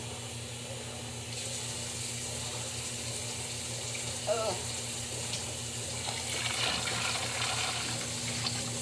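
Hot water pours into a vessel, splashing and gushing over a steady low electrical hum, growing fuller toward the end.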